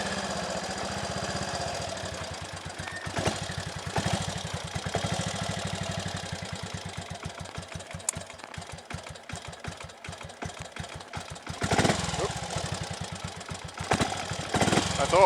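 A Triumph Tiger Cub trials motorcycle idles nearby with a steady, fast single-cylinder thump that briefly rises and dips. A person talks over it.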